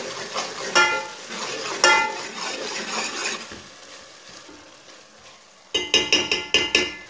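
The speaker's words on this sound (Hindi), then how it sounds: "एक चम्मच अदरक का पेस्ट डाल लेंगे। इसे भी 1 मिनट तक पका लेंगे।" Ginger paste and tomatoes fry for a mutton curry, a soft sizzle running under scraping stirs and two sharp utensil knocks, then a quick series of metallic spoon taps against the pan near the end.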